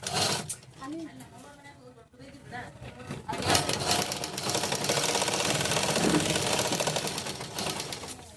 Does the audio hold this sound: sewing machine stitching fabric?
yes